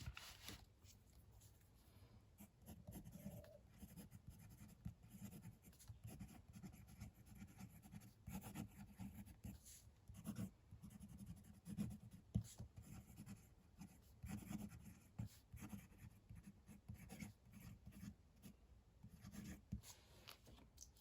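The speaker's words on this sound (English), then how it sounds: "Let's do some writing." A titanium-nib fountain pen writes on paper with a continuous, faint, scratchy rustle of strokes and small pauses, close up and steady throughout.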